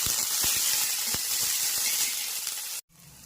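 Green chillies and green peas sautéing in a hot pan for upma, a continuous close hiss of sizzling with a few soft taps from stirring before it cuts off abruptly.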